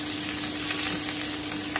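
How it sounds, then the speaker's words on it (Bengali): Steamed cauliflower fries in hot oil in a pan after fish was fried in the same oil, giving a close, steady crackling sizzle with no voices. "আমি হালকা করে একটু ভেজে নিচ্ছি 2 থেকে 3 মিনিট"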